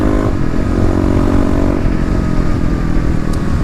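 A Kawasaki KLX351 EFI dirt bike engine runs loud and close in light throttle pulls, holding a steady, rough drone with a slight rattle and no one speaking.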